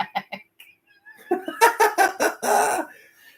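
Ducks quack outdoors in a quiet series of short calls, building into a louder run of rapid, harsh quacks and one longer honk, heard alone at moderate distance.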